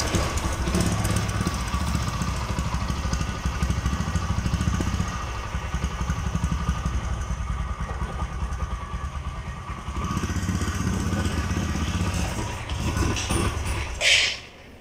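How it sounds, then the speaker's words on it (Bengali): A second-hand Hero Discover 100cc motorcycle with about 17,539 km on it runs steadily at idle, a continuous close engine drone that holds for the whole stretch before a brief sharp noise near the end. "তো বাইকটির সাউন্ডটা আপনাদেরকে আমি শোনালাম"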